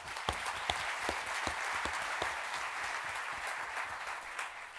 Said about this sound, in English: A huge round of applause to all those who make it happen.